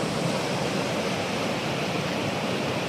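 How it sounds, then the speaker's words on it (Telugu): A waterfall beside a mountain pilgrimage footpath roars as a steady, dense rush of water, loud and unbroken throughout, with no voices. "చాలా అద్భుతమైన వాటర్ ఫాల్స్ అండి."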